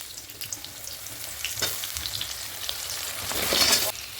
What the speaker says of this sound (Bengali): এবারে আমি এর মধ্যে সবজিগুলো কেটে ধুয়ে রেখেছি, এর মধ্যে দিয়ে ভেজে নেবো।